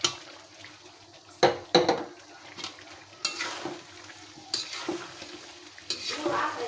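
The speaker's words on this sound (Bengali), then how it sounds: "ভেজে রাখা মাংসগুলো আমি এখানে দিয়ে দিব" Fried chicken pieces stirred into cooked spice masala for a chicken kacchi biryani, with repeated scraping stir strokes against the pan every second or so over a soft, continuous sizzle.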